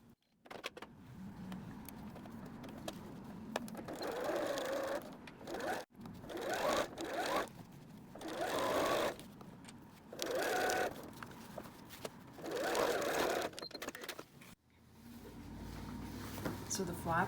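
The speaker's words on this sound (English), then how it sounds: "and we're going to sew across there as well." A sewing machine stitches a flap onto the back of a messenger bag in four or five whirring bursts separated by short pauses, close up, with a voice talking at times between runs.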